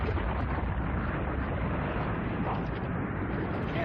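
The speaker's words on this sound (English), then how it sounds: "That was one hell of an explosion." A big, sustained explosion from an anime episode roars loud and dense as a continuous rumbling blast that carries through the whole stretch without letting up.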